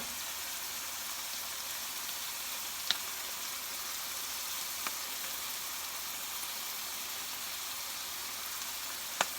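Chicken sautés in a hot pan with a steady, even sizzle like light rain, fairly quiet and close, broken by a few faint ticks and pops, with no voices.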